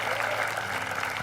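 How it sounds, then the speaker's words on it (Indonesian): A studio audience claps in a brief, even burst of applause, dense and fairly close, lasting just over a second with no speech on top. "tepuk tangan dulu dong."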